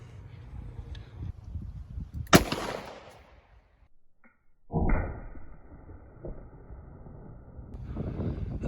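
A .38 Special snub-nose revolver fires a 125 grain +P Magtech Guardian Gold round, one sharp loud crack with a quick decay, followed later by duller rumbling noise outdoors.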